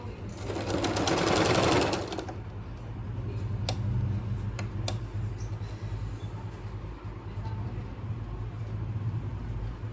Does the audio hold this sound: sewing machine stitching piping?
yes